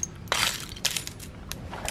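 Tempered glass shatters under hammer blows, giving sharp crunching cracks followed by bursts of tinkling fragments, several separate impacts in close succession.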